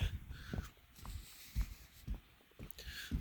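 Crows caw a few times at a distance in a wooded marsh in late February, harsh calls spaced irregularly over a quiet outdoor background.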